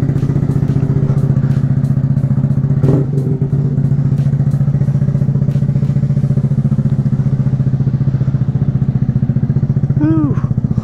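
A Harley-Davidson Street Bob motorcycle idles while warming up in cold weather, its deep, loud, steady engine thump sounding close, with a few light clatters and a brief high whistle near the end.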